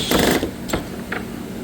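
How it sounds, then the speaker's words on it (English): A cordless drill with a square bit drives 1.25-inch screws through filler into a white oak face frame during a kitchen remodel, giving a few short whirring bursts, the first longest, then two brief pulses. "I do like the drills better than the impacts,"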